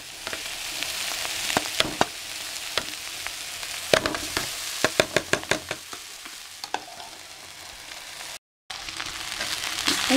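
Flattened rice (aval) poured over sautéed vegetables in a hot pan crackles and sizzles, with many sharp ticks and stirring clatters over a continuous fry hiss, close and no talk.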